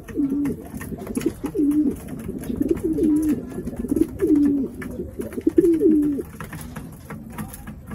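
Racing pigeons coo in a series of soft, low, throaty phrases repeating every second or so, close by, against a light outdoor background.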